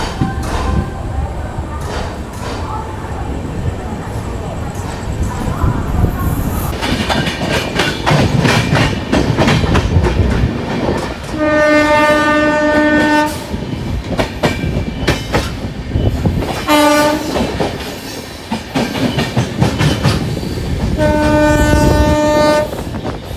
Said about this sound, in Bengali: আমাদের train Khurda road junction railway station থেকে ছেড়ে দিয়েছে